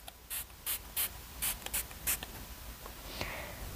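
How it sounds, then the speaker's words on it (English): A series of quick, sharp bursts from a facial primer mist spray bottle, about eight short hissing puffs in uneven rhythm, close and fairly quiet, followed by a softer trailing hiss. "spray as best I can my face with the Smashbox Photo Finish Primer Water"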